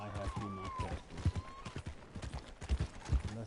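Horse hooves clip-clop in a steady walking rhythm in Red Dead Redemption 2, a female horse, close and moderately loud, with a voice talking over them throughout.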